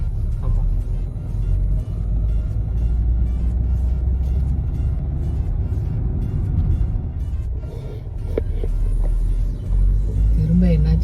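Many vehicles creep through slow, congested traffic on a forest road between Munnar and Coimbatore, a steady low engine rumble with occasional revving and passing cars, loud and continuous throughout.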